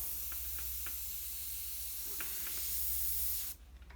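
A paint spray pot releases a continuous hissing spray of compressed air steadily for several seconds, fairly quiet, then stops, leaving a low background hum.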